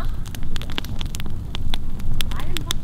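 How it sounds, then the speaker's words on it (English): An outdoor campfire at a 4WD camp near Wellington Dam crackles and pops steadily, with irregular sharp snaps over a dense hiss of burning wood, loud and close. "How's the crackle of a campfire?"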